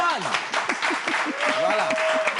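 An audience applauds at a live French event, dense clapping heard under an enthusiastic voice speaking over it.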